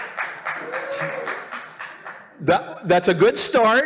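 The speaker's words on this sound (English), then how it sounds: "do hold your applause right until the end" Audience applause at a metals investor presentation, a short burst of rhythmic clapping from the crowd that stops as the presenter begins speaking over the room.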